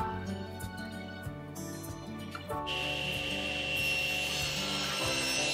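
Scrap walnut being sliced into pieces with a saw, a steady close rubbing and rasping stroke that shifts to a louder, brighter cutting tone partway through, with no voices.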